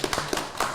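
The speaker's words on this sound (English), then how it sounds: "Go ahead and give us a round of applause for each other." A handful of people clap a quick, short round of applause up close, with sharp uneven claps spread over under a second.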